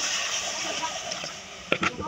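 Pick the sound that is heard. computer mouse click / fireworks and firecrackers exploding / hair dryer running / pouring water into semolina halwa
pouring water into semolina halwa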